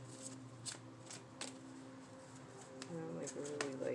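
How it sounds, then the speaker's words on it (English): Tarot cards are shuffled in quick, riffling bursts close by, with soft flicks repeating through the clip while a voice murmurs faintly beneath. "I'm really scared to even shuffle these"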